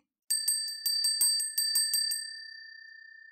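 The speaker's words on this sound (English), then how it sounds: "This is my favourite part of the podcast when I ring my feng shui bell." A small bright feng shui bell is struck rapidly about ten times, then its clear ringing tone lingers and slowly fades away. No voices.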